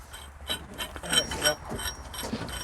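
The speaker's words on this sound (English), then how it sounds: "Take this wrench, and as you tighten it, as you hit it, I'll spin it" A hand wrench ratchets in quick repeated clicks while tightening on a 25-foot man-lift hydraulic cylinder during a rebuild, close and fairly loud with metallic clatter, no speech over it.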